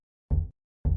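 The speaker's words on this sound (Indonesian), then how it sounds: "Wawan mendengar ketukan keras di bagian atas dinding di belakang dia," Two loud, heavy knocks struck on the upper part of a house's back wall, each a short dull thud with a pause between them, close by with no talk.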